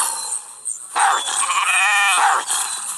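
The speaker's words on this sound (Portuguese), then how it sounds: "Fez barulho de cabra." A goat in the video game The Wolf bleats loudly and close, a long wavering cry over a steady bright background hiss, with no talking.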